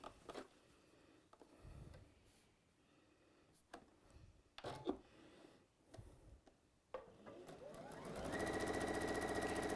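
A sewing machine stitching quilt pieces, with scattered clicks and thumps first, then a steady, loud mechanical whir running near the end.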